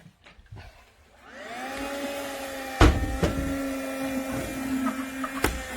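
A Kärcher WV 2 Plus N cordless window vacuum starts up and settles into a steady whirring hum, with a couple of sharp knocks as it runs.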